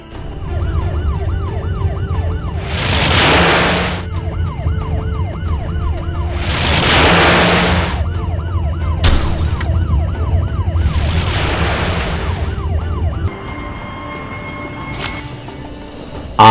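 A toy police car siren wails in repeated rising and falling cycles, loud and steady against a constant mechanical whir, with brief clicks near the end.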